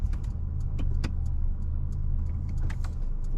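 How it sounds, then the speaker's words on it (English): A car engine idles steadily with a low constant rumble inside the car at the end of a driving test, while small clicks and jingles like keys sound over it. "you can switch off the engine as well"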